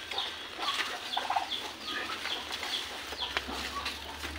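Turkeys and other farm fowl cluck and call repeatedly at feeding time, short chirpy calls scattered over steady outdoor background noise at moderate distance.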